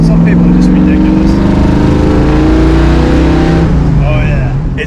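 Classic Ford Mustang Bullitt tribute with a 4-speed, its V8 engine and exhaust cackling in a steady loud rumble that rises and shifts pitch, with a voice talking over it.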